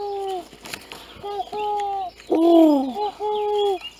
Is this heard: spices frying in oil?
no